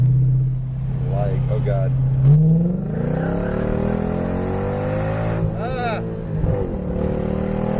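A Mercedes AMG SL55 with a 77mm supercharger blower pulley accelerates hard, its engine note climbing through the gears in close, loud interior sound while occupants exclaim over it.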